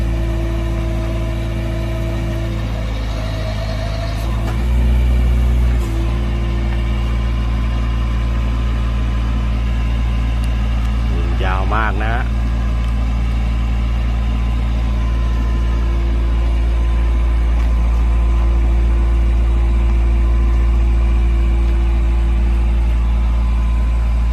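Isuzu diesel engine on an Aichi SP120 aerial lift truck with a 12-metre boom, idling loud and close with a steady low drone and a few brief rattles midway.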